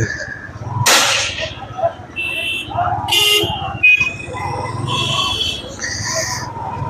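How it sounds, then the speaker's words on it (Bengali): Horns toot briefly amid steady engine rumble in a jammed city road, heard from a motorbike moving slowly through traffic, with someone talking over the noise. "এই রাস্তাতে একটু যানজট দেখা যাচ্ছে"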